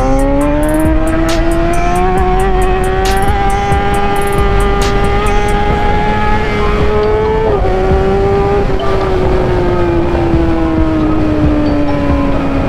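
A BMW S1000RR motorcycle fitted with a Racefit exhaust screams at high revs while being ridden, a loud continuous engine whine holding a steady pitch with slight rises and dips.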